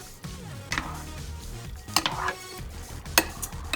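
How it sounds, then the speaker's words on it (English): Tomatoes and spinach cook in a pan for a vegan pasta dish, giving a steady low sizzle with a few light stirring scrapes and clicks throughout, close and without any talk. "we're gonna let that cook a little bit just to get the tomatoes and the spinach a little bit cooked"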